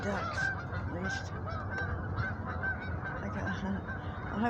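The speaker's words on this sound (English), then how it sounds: "The ducks, at least." Ducks give repeated honking calls, fairly faint and distant, overlapping in an irregular chorus throughout.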